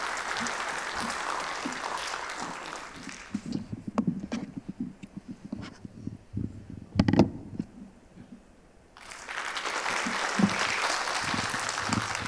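Audience applause at a residents' briefing on the Daechi Mido apartment reconstruction, welcoming the committee chairman: dense clapping fades into a quieter stretch of scattered claps and shuffling, then a full round of applause swells back up.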